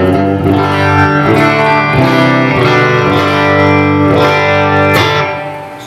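Electric guitar played through a compressor with a little reverb, loud and continuous with sustained ringing chords and steady strummed attacks, alone without any talk, fading slightly at the very end.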